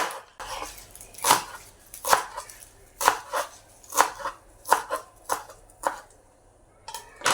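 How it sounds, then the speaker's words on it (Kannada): Knife chopping washed green amaranth leaves on a board, a steady series of about a dozen crisp, close thuds with short gaps, no talking. "ಈ ಥರ ಎಲ್ಲವನ್ನು ಕಟ್ ಮಾಡ್ತೇನೆ"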